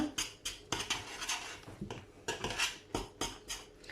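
A utensil stirs flour into boiling water in a metal pot for tulumba dough, making a quiet, rhythmic series of scraping clinks against the pot at a steady pace, with no talking.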